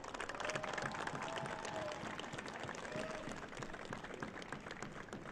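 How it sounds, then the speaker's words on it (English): A crowd applauds at the trophy ceremony after a youth MLS NEXT Cup U15 soccer final, a steady distant wash of clapping with faint cheers and some voices underneath. "So let's give a round of applause for Paul Ritchie and City San Diego."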